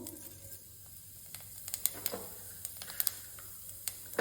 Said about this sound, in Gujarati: આપણું તેલ ગરમ થઈ ગયું છે. તો તેલમાં થોડું એવું જીરું,